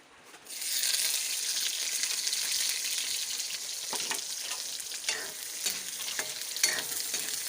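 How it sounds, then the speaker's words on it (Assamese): Food sizzles steadily in a frying pan, a loud, close, continuous crackle starting after a brief quiet moment, with a few stirring knocks and no talking. "তো আৰু এতিয়া ভাজিব লাগে।"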